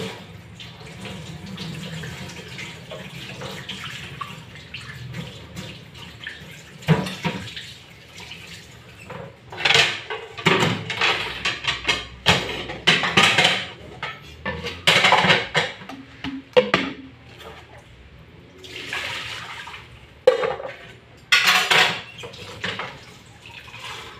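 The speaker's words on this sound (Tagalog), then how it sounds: "Mag-uhugas tayo." Dishes being washed by hand under a running tap, with splashing water, clinking and irregular bursts of rinsing that swell and fade close by.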